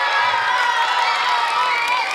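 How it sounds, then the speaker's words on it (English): Elementary school students clapping and cheering for their teacher on career day, a dense, steady roar of applause and shouting voices filling the room without pause. "the students could not stop clapping and cheering her on"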